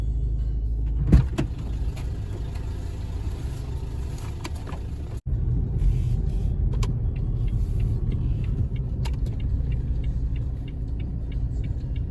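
A car drives along with a steady low rumble of engine and road noise inside the cabin, plus a few sharp clicks and ticks and one brief thud partway through.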